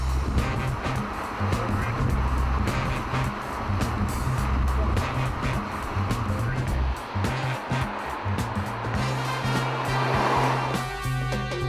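A 2003 BMW Z8 engine roars loudly and steadily while driving, revving toward a 6,000–7,000 rpm limiter, a continuous close drone with road and wind noise and brief talking over it.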